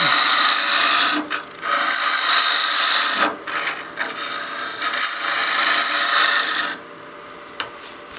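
A spindle gouge takes a peel cut on a small wood bat house ornament spinning on a lathe, a loud steady shaving hiss running for several seconds with brief dips, then dropping to a quieter hum near the end.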